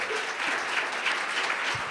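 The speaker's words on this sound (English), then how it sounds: "we give our panelists another round of applause for the amazing work" Audience applause for conference panelists, a steady dense wash of clapping holding at even loudness throughout with no voices over it.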